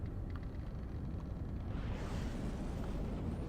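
Video game explosion from a direct missile hit on an enemy ship, a dense, rumbling blast that swells into a broad roar and lingers without any talk.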